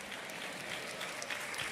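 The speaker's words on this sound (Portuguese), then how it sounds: "Não aplauda não, senão vai parecer que eu canto." Faint, steady applause from a church congregation, a soft continuous patter of clapping heard at a distance.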